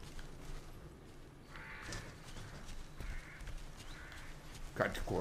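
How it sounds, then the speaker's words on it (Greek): Crows cawing in the video game Resident Evil Revelations 2, a few harsh calls spaced through the clip over low ambient game noise. "Κάτι κοράκι ακούγονται εδώ."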